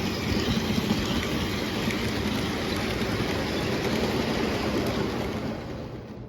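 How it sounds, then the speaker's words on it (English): Menards Santa Fe model train locomotive running at 12 volts at its lowest speed, giving a steady, continuous mechanical whir and rumble that holds even from start to finish with no talk. "At 12 volts, this is the lowest speed this engine will go."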